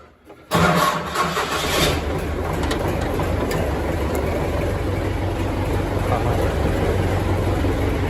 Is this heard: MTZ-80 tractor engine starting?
yes